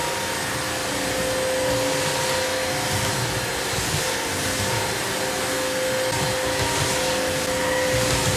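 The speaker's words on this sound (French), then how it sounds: "et ensuite vous faites appel à l'aspirateur pour finir." An ILIFE W90 cordless 2-in-1 vacuum cleaner runs steadily and loudly with a constant whine, unbroken throughout.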